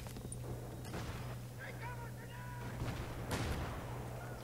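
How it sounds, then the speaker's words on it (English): Grenades going off in the Battlefield 3 shooter: a few quiet, muffled blasts, the clearest late in the stretch, set against low battle noise in a faint mix. "There's so many nades."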